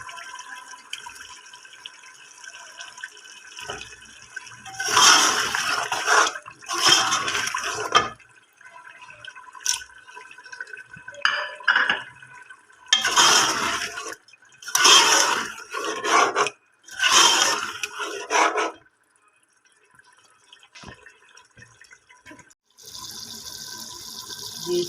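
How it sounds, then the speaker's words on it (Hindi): Cubed chicken frying in oil and well-cooked masala in a village kitchen pan: a close, bright sizzling hiss that surges in several bursts with scraping stirring, easing between them, with no talking. "चिकन फ्राई हो रहा है"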